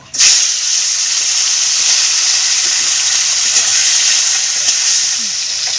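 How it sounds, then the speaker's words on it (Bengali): Fish heads frying in hot oil in a wok: a loud, close, continuous sizzling hiss that begins abruptly and holds steady throughout, with no talking. "মাছের মুড়োগুলো ভেজে নেব"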